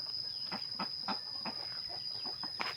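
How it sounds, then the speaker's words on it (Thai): Several short chicken clucks repeat at an uneven pace over a steady high insect-like whine and low outdoor background at a rural village coop shared with ducks. "ไก่กับเป็ดพักบอนเดียวกันเลยนี่"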